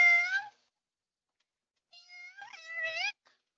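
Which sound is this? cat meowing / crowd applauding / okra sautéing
cat meowing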